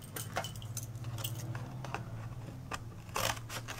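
Scissors cut through the sides of a flattened cardboard tissue box with a string of close, crisp snips and crunches at an uneven pace, with nobody speaking.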